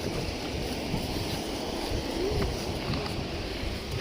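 Strong wind buffets a seaside rocky shore where people are fishing, a constant rushing roar against the microphone with faint surf underneath, no one speaking.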